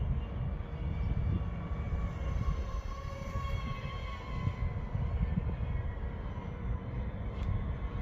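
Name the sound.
RC F22 Raptor plane with Spintech 8520 motors flying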